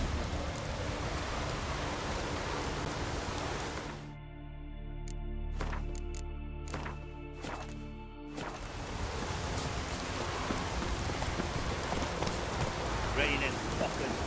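Heavy rain pours in The Witcher 3, a dense broadband hiss that drops away for a few seconds mid-clip while a musical tone plays, then returns at full strength.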